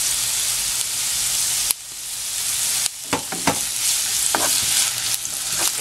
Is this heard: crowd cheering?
no